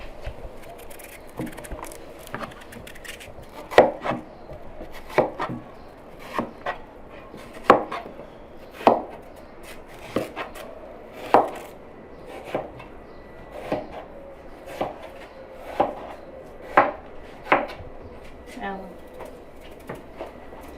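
A knife chops through watermelon rind, slicing it thin for jam, with steady, evenly spaced cuts roughly once a second, close and crisp, over a soft background murmur of voices.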